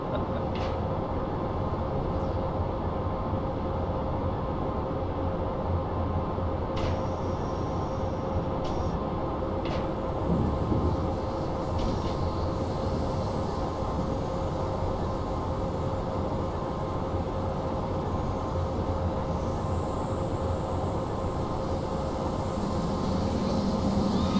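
A DB BR111 electric locomotive in a Train Simulator game runs steadily on the Munich–Garmisch line, a continuous rail rumble and motor hum with a few faint clicks, no voices.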